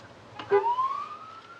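A brief police siren whoops upward once, rising sharply in pitch, heard at moderate distance with no talking.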